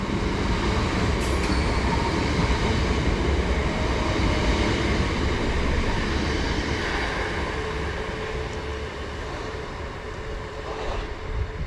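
A Class 377 electric multiple unit slows into Littlehaven station in West Sussex and pulls away, giving a steady loud rumble of wheels and motors throughout with faint squeals, no voices.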